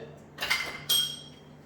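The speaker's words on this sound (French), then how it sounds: "je prends la petite cuillère et je récupère le fond comme ceci" A small spoon scrapes the bottom of a bowl and stirs a vegan chichis fregi dough, making two short, close clinking scrapes with no talk.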